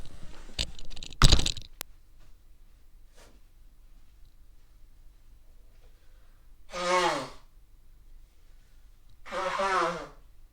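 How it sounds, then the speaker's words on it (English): A person blows their nose twice in two strong honking bursts several seconds apart, preceded by some rustling and clicking handling noises, close to the microphone. "that was me blowing my nose."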